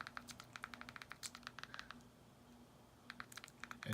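Quiet, rapid keystroke clicks tap out a search on a Fire Stick keyboard, coming in irregular bursts with a brief pause midway before the typing resumes.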